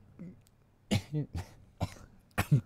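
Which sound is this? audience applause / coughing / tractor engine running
coughing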